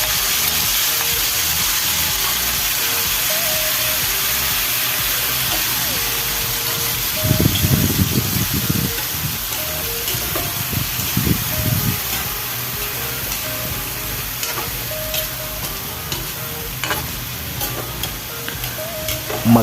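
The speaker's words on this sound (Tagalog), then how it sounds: "ilalagay na nga natin yung balat ng baka na linaga natin kanina" Boiled beef skin goes into a pot for balbacoa with a steady sizzle and hiss, plus a louder burst of stirring and bubbling midway, close by and without talk.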